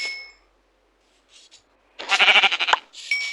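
A single nasal sheep bleat rings out in Minecraft, followed by short chiming effects amid otherwise near silence.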